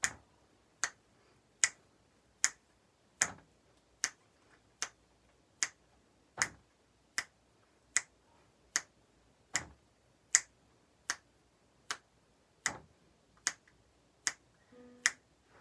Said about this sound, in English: I'm gonna snap my fingers to keep the beat.